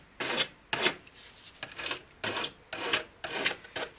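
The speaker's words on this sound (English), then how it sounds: "And this is a very coarse file. Just a matter of taking that edge off." A very coarse file rasps across the cut edge of PVC water pipe, taking the edge off in about seven steady back-and-forth strokes, close and loud with brief pauses between.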